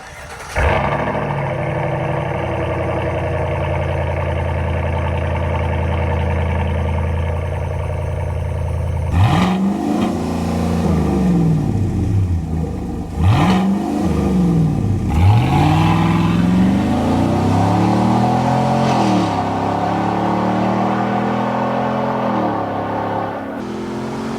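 A Chevy Silverado with a 5.3 V8 and an X-pipe exhaust revs loudly and close by, first holding a steady idle drone, then sweeping up and down through several sharp throttle blips.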